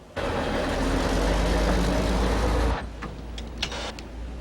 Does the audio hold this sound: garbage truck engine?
yes